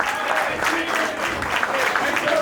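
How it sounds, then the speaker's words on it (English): Audience applause at a comedy roast in the Bronx, a steady wash of clapping from a crowd that holds for a few seconds, with voices mixed in underneath. "So clap up for that."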